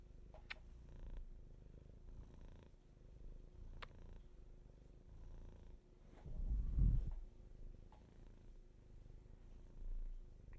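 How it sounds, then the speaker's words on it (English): A cat purrs softly close up in a quiet room, a faint steady rumble with a brief louder swell midway and a few small clicks, no talk. "Some kitty ASMR."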